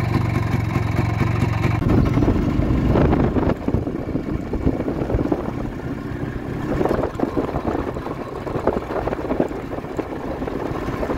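An Izh Planeta 5 motorcycle engine idles unevenly while hot, its idle sagging, on a first ride out of town. A loud, close, continuous low rumble with uneven pulses is mixed with heavy wind buffeting, and no one speaks.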